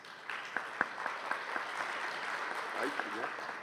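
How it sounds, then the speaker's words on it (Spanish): A panel discussion audience gives light applause for three panelists, scattered individual claps sounding over a soft murmur of voices, fairly quiet and thin. "Un aplauso para ellos tres."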